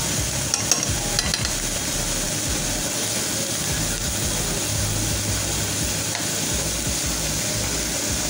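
Shrimp fry in a pan with an even, continuous sizzle at close range, and a few light clinks and scrapes from stirring come early on.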